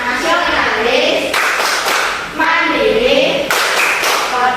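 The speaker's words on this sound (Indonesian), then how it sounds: "Kita mulai dengan tepuk PPK dulu ya" Rhythmic group clapping chant in a classroom, with a group of people clapping in patterned bursts while voices call out together, loud and close.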